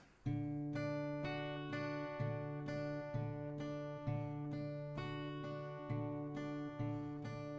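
An acoustic guitar picks a repeating melody over a sustained chord, each phrase starting with a clear pluck and ringing on.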